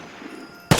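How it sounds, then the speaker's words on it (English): An M2 Carbine fires in the shooter game Vigor, a sudden loud gunshot burst closing out a short stretch of quiet ambience. "And so, I shoot 2 more times."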